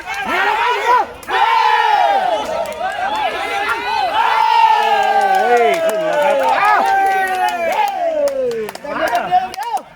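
A crowd at a badminton-style doubles match cheers and shouts loudly and continuously, with voices rising together. It sounds close and energetic, with some clapping mixed into the din.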